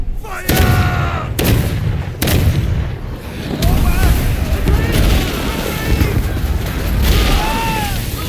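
Musket volley and cannon-like booms from a battle in the samurai-era video game Rise of the Ronin, several loud blasts in bursts over a rumbling battlefield din, with a voice briefly heard.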